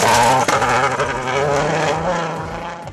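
A Suzuki SX4 rally car in battle trim runs at speed on a Trinidad rally stage, its engine roaring loud and close with a quick gear change, then droning steadily as it pulls away.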